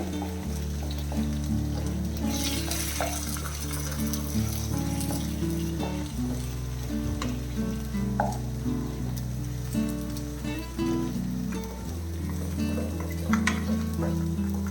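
Egg for egg rice frying and being stirred in a pan, with a continuous close sizzle and occasional scraping stirs under steady background music.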